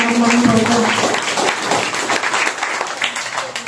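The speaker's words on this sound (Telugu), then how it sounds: "నమ్మిన వారు చప్పట్లు కొడి దేవుని" Congregation clapping together during a Telugu Christian church service, with a steady burst of applause that fades a little over a few seconds and some speech under it.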